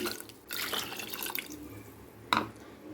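Two cups of water for ragi halva are poured into a vessel in two splashing bursts. The first runs for about a second and the second is shorter, both close and fairly quiet, with no talking.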